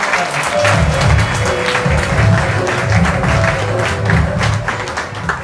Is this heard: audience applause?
yes